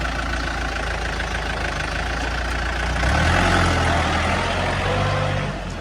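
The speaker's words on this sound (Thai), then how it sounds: "ลองสตาร์ท แล้วลองขับดูครับสตาร์ทเลย ขับติดง่ายครับ" A used Yanmar 51 hp tractor with a front loader and rear plough runs with a steady, low diesel rumble that swells a little louder partway through, with no voices over it.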